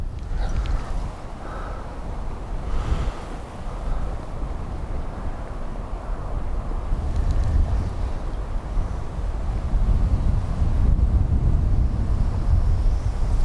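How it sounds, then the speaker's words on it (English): Strong wind gusting across a reservoir while fishing, a constant rushing roar buffeting the microphone and swelling louder toward the end. "Oh, the wind's really picked up again now."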